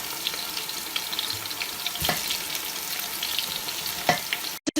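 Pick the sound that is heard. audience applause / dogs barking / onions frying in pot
onions frying in pot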